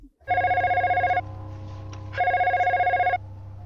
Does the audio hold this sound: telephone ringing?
yes